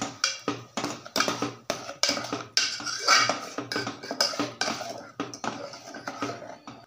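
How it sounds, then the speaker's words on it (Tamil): A spoon scrapes and knocks against a pot of paneer kurma with salt and spice powder in a quick, regular stirring rhythm, roughly twenty close, clattering strokes; no talking. "இப்போ இதுக்கு தேவையான அளவுக்கு உப்பு எல்லாத்தையும் போட்டு நல்லா கிளறிடலாம்."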